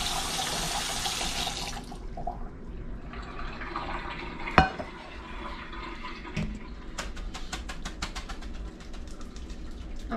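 Cooked spicy instant noodles are drained in a kitchen sink: tap water pours in a broad steady rush, then drips and clatters follow, with a sharp knock in the middle and no talking.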